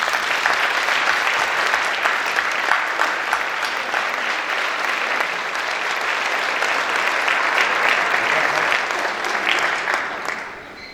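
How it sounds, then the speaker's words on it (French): Sustained audience applause at a town New Year's greetings ceremony in Morangis, honoring security and rescue forces; dense, even clapping from a large crowd holding for about ten seconds before tapering off. "Nos forces de sécurité et de secours méritent un tonnerre d'applaudissements."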